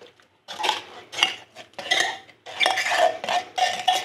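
Drained canned corn and Rotel tomatoes tumble into a mixing bowl in a series of clattering, clinking bursts with a spoon scraping against the bowl, close and fairly loud with no talking.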